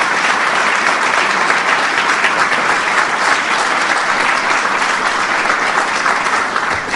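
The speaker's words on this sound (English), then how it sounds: "Give them a big round of applause." Loud, dense applause from a large audience at a White House gathering, a continuous roar of clapping held steadily throughout with no speech over it.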